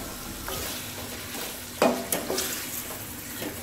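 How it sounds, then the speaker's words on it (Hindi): Garlic, ginger and chili paste sizzles lightly in a pan while being stirred, a steady low frying hiss with a few sharper scraping stirs near the middle, close and moderately quiet, no talking. "इसको बहुत ही हल्का सा मैंने फ्राई करना है इसमें,"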